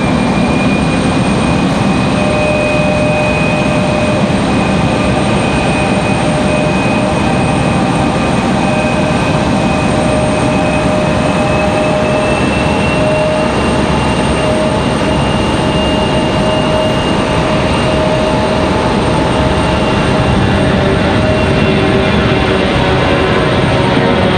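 A steady, loud, unbroken jet roar from an Endeavor CRJ on final approach in stormy weather at Raleigh-Durham, holding a constant whine throughout with no talk.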